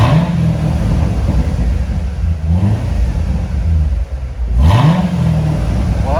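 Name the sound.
2019 Corvette Z06 engine running and revving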